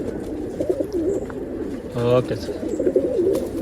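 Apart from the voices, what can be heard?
Rekdhar pigeons cooing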